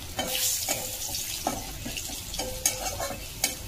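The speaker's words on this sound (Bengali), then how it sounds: "আমি মাছগুলো তুলে একটু রসুন দিয়ে দিলাম, কালো জিরে দিয়ে" Garlic and black cumin sizzling in hot oil in a pan after fish has been fried, a bright continuous hiss punctuated by several clanking stirs of a spatula, close and alone.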